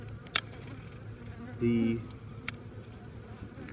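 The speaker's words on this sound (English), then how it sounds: "the bees like to corral them and keep them like in a prison here" Honey bees buzzing at an open beehive, one bee droning loudly close by for a moment against a faint background hum, with a couple of sharp clicks and a brief word spoken.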